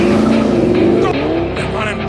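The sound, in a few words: car accelerating and swerving through traffic, in a film scene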